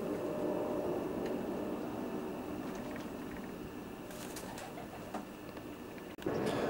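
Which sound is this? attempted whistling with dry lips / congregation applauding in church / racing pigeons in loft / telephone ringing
racing pigeons in loft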